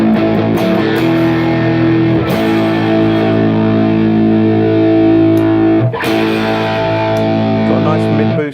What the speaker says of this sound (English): Then you've got a distortion section, pedal number 4. So let's just kick this in